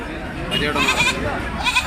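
Goats bleat in a crowded sheep and goat market, a few wavering calls rising above a steady hubbub of people talking nearby.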